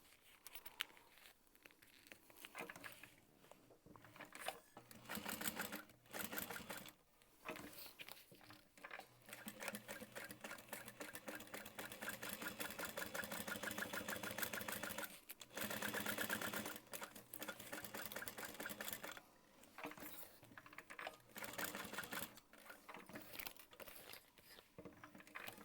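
Sewing machine top stitching around the full edge of a handmade Scoops Ahoy piece, running in long steady bursts with short pauses between runs, close and moderately loud, with no talking.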